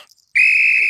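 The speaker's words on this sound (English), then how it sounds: "when I blow my whistle" Police whistle blown in a Peppa Pig cartoon: a single sustained shrill blast, loud and steady, starting after a short near-silence and running to the end.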